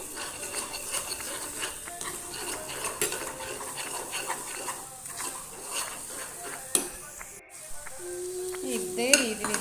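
An egg mixture for Kozhikode chatti pathiri fries in a pan with a continuous crackling sizzle, while a spatula scrapes and taps against the metal.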